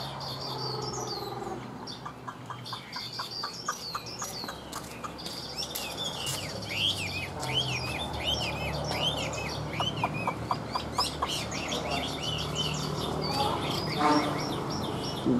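A caged hwamei songbird sings a varied, continuous stream of whistled, rising and falling phrases close by, with chirps throughout and faint background noise beneath.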